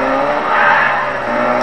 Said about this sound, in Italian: questo è diventato per me, con questi motori ruggenti